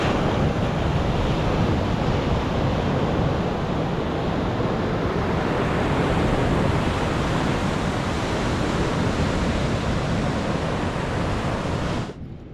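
Ocean surf rolls in steadily at Harris Beach in Brookings, Oregon, a loud, dense, unbroken roar of breaking waves and wind that continues for about twelve seconds before cutting off.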